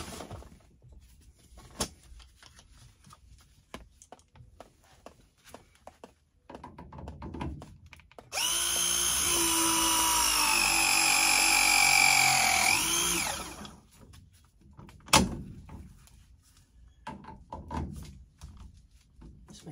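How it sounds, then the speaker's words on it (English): A Milwaukee ProPress tool with a 3/4 inch head crimps copper plumbing fittings, one loud, steady mechanical whine lasting about five seconds, with scattered clicks and handling knocks before and after. "So I got the 3/4 head on the Milwaukee ProPress tool. So we'll go ahead and we'll start crimping all the 3/4 stuff"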